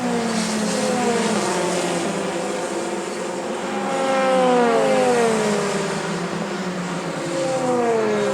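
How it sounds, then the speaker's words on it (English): Race cars scream past one after another during a single-seater motor race, engine notes rising and falling in overlapping sweeps as they approach and pull away, loud and continuous with no talk. "Up towards the bus stop then comes Dan Ticktum, and Schumacher, in fairness to him, has stayed pretty close all the way round this lap"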